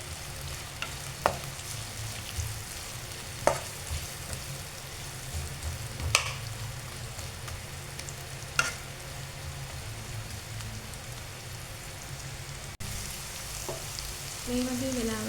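Curry leaves and pandan leaves temper in hot oil for a Sri Lankan salmon devilled dish, giving a steady crackling sizzle with a few sharp clinks of a stirring spoon against the pan.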